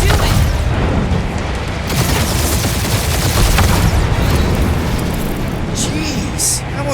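Spaceship guns fire in the Guardians of the Galaxy video game, a dense, continuous barrage of booming shots and blasts that holds loud through the whole stretch, with voices talking over it.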